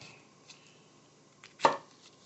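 A knife cutting a jalapeno pepper on a cutting board, one sharp close chop after a couple of faint taps in a quiet room.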